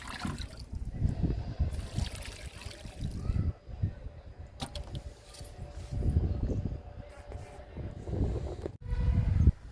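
Kitchen-waste liquid fertilizer trickles and splashes onto potted plants in close, intermittent pours separated by short pauses, with low handling noises between them.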